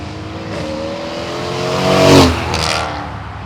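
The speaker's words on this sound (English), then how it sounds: "Mercedes-Benz 0 to 60. Here we go." A Mercedes-AMG V8 car revs hard while accelerating from a standstill to 60 mph, the engine note climbing steadily in pitch to a loud peak before easing off, close and alone with no talk.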